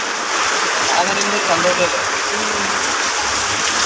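Summer rain pours steadily in a loud, even hiss that continues through the whole stretch, with faint voices murmuring underneath.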